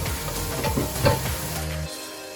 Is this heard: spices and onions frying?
yes